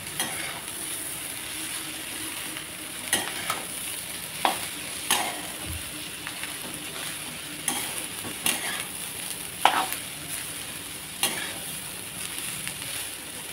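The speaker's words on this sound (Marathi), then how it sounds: "हे एकदा छान असं मिक्स करून घेऊया." Cabbage and soaked lentil curry being stirred in a pan, with a steady sizzle under repeated scraping and clinking strokes of a spoon at an irregular pace, close and moderately quiet.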